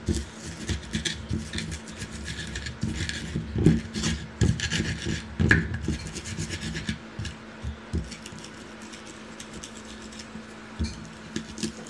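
A stone mortar and pestle grinding boiled cassava leaves with salt, chili, palm sugar and tamarind for sambal, a close, steady rough rubbing and scraping with irregular louder strokes throughout.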